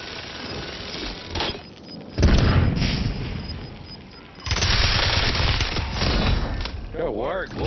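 Loud bursts of heavy hand cannon gunfire in a video game, with a quieter lull between blasts and another sustained volley later, with some faint talk in the gaps.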